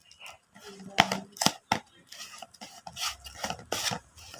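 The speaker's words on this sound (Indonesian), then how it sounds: "Kita aduk kembali Mas Bro." A thick catfish fishing-bait mixture is stirred by hand, giving a run of close, uneven scraping and rubbing strokes with a few sharper knocks, over quiet background.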